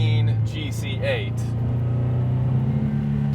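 A 400 hp JDM Subaru Impreza STI Type R Version III (GC8) idles in a rainy rainforest with a deep, steady rumble close up, and a brief voice-like sound over it at the start.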